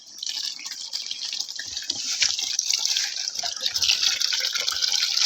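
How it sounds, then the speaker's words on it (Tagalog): Water pours steadily into a basin for bathing outdoors on a farm, a continuous bright rushing and splashing stream that stays loud and close throughout with no talk over it. "Pugni lang na aron mapuno ng planggana kay dana ta maligo."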